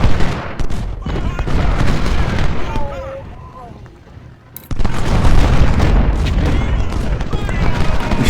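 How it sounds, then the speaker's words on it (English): Union artillery firing on a Civil War battlefield in the Ultimate General video game, with heavy booming cannon blasts and dense battle noise, a quieter lull, then a sharp renewed barrage; a voice talks over it at times. "I see the Union artillery has finally got set up and started shooting"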